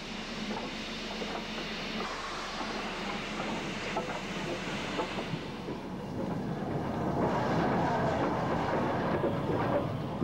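Steam banking locomotives working on the Lickey incline near Bromsgrove in 1958: a steady rumbling, chuffing roar that swells louder toward the end, with no voices.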